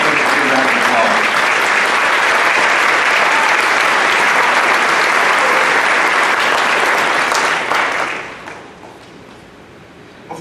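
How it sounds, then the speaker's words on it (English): A commencement audience gives the graduates a long, loud round of applause, the dense clapping holding steady for about eight seconds before fading to a quiet room with faint murmurs. "Let's give these graduates a big round of applause"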